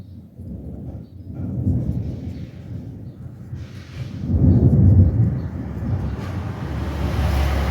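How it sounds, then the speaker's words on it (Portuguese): Low, rolling thunder rumbles through steady rain, building in waves and swelling loudest midway before settling into a sustained heavy roar. "Esse barulho é trovão."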